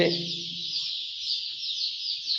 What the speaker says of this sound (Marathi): आमच्याकडे पिल्ले आहेत पाहू शकता